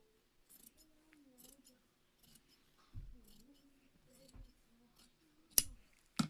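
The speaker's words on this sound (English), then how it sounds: "So we're going to try to cut a straight line all the way across." Scissors snip through a hand towel in a series of separate crisp cuts with short pauses between them, close up, with a quiet voice murmuring underneath.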